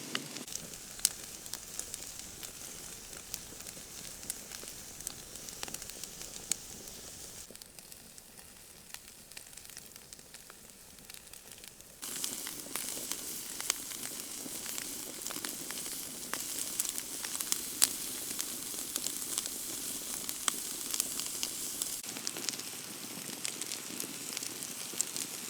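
Roasting garlic and potatoes sizzle steadily over a camp stove on a frozen lake at night, a soft continuous hiss with tiny crackles that grows a little louder partway through, no talking.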